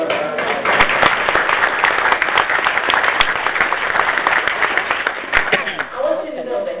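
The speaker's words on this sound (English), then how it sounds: "So let's give it a round of applause." Sustained applause from an audience at a Southfield mayoral State of the City address, dense clapping filling the room for several seconds before thinning out near the end.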